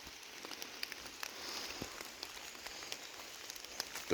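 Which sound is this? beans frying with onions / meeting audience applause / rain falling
rain falling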